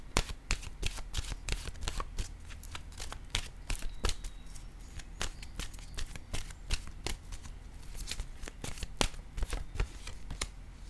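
Oracle cards shuffled by hand in a quick, continuous run of crisp riffling snaps and slides, close and fairly quiet, with no talking.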